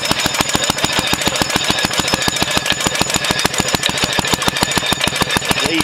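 A vintage Bave-U two-stroke 4 hp stationary engine, made in Box Hill, Melbourne, runs steadily with a fast, even putt-putt firing beat and metallic clatter, loud and close with no talk over it.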